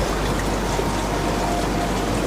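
Steady rain falling outside a train moving through mountains, a dense, even hiss of drops with a low rumble underneath, constant and fairly close.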